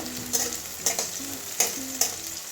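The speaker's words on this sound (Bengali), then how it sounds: "উচ্ছেটা আমার ভাজা হয়ে গেছে" Sliced bitter gourd frying uncovered in an open pan, a continuous close sizzle punctuated by regular spatula scrapes and taps roughly every half second.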